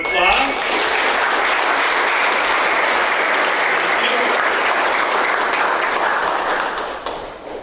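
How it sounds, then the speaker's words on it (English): A group gives a round of applause, a dense burst of clapping that starts at once, holds steady for several seconds and then tapers off at the end. "Give her a round of applause."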